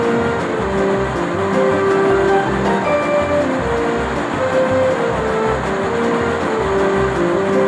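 A freight train hauled by geared steam locomotives rumbles steadily with rhythmic low chugging beats and faint squealing tones over the top, loud and continuous.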